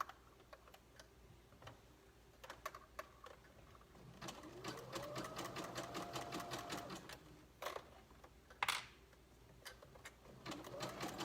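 A sewing machine stitches elastic onto a lined swimsuit for a tankini, running in short bursts of rapid, close needle clatter with pauses between runs and no talking.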